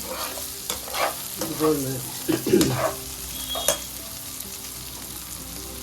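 Bitter gourd frying in a covered pan and being turned over, with scraping stirs and a steady sizzle up close; someone speaks briefly over the cooking.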